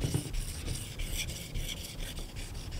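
A Helle Nying knife blade scraped in steady back-and-forth strokes across a whetstone, a close, continuous gritty rasp with a regular stroking rhythm and no talking.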